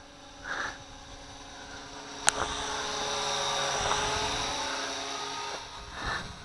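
A Syma X8C toy drone flies and climbs, giving off a steady, close, high-pitched whine from its motors that swells slightly as it rises. A sharp click sounds near the middle.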